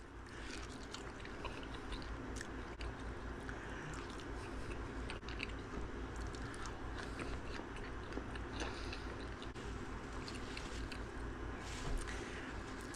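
Someone eating a piece of fried fish outdoors on a Florida saltwater fishing trip, soft chewing and biting sounds under a steady background hum, with no talking.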